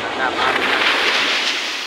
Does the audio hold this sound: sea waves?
yes